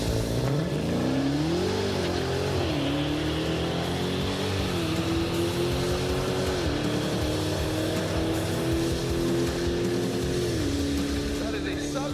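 A Dodge Challenger Demon 170 and a Lucid Sapphire drag race side by side, an engine revving and climbing through rising, stepped tones that hold loud and steady to the end, with a voice faintly underneath.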